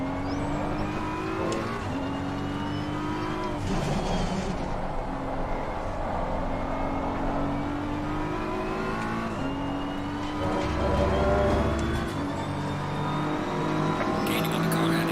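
A race car engine in a racing video game drones continuously, revving up through rising gear pulls and dropping at each shift, loud and close with no talk over it.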